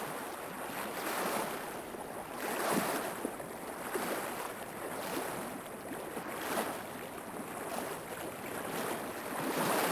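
Waves washing ashore on a lake or river shore in Yellowstone National Park: a steady, close wash of surf that swells and recedes in gentle surges, with wind noise across the microphone and no voices.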